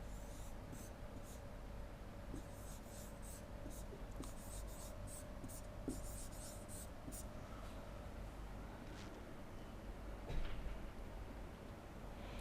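A pen scratches faintly across a notebook page in a quiet room, a soft steady rustle of writing strokes with occasional slightly louder marks.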